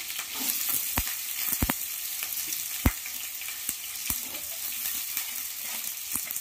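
Onions sizzle and fry in hot oil with curry leaves and garlic for a tamarind eggplant pulusu, a steady crackling hiss broken by a few sharp pops and utensil taps, with no voices.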